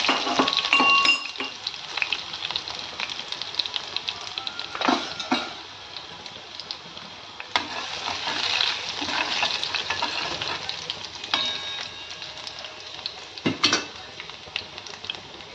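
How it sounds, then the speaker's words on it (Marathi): Garlic frying in hot oil with crackling mustard seeds and cumin in a pan, a steady close sizzle and spatter running throughout with occasional spoon scrapes and clinks. "तर इथे लसूण तळत आल्यानंतर"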